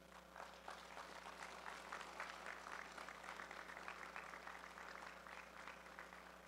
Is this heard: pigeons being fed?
no